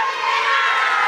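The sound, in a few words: crowd shouting loudly at a religious gathering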